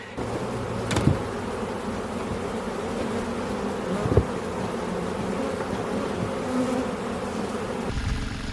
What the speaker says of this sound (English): just watching the bees work, just watching them fly around and do their thing is actually really quite mesmerizing